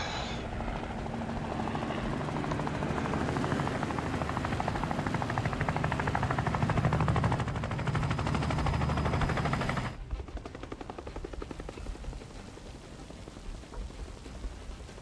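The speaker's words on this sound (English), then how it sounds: "It's a helicopter." A helicopter armed with a chain gun in the video game Phantom Doctrine makes a loud, continuous rotor roar with rapid gunfire. The sound drops noticeably in level partway through, then carries on more quietly.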